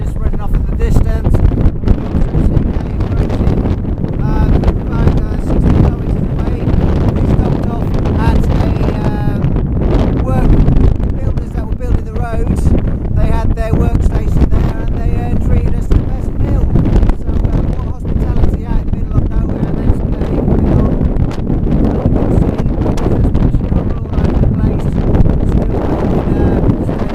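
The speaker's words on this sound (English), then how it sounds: "Being battered by the winds" Strong Patagonian wind battering touring cyclists on an open road, a constant loud roaring buffet across the microphone throughout, with gusty surges and faint voices buried underneath.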